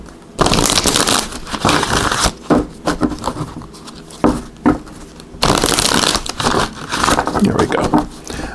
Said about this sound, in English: So just give these a little shuffle.